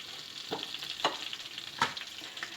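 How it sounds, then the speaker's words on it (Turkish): Kuymak ingredients are stirred together in a bowl, with a few distinct scraping strokes about half a second apart over a soft background sizzle, close and clear with no voices. "Bütün bu malzemeleri güzelce karıştırıyoruz"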